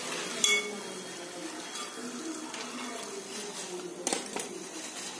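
Crispy fried banana chips coated in jaggery drop into a steel bowl, making a few sharp metallic clinks and light rattles in a quiet kitchen.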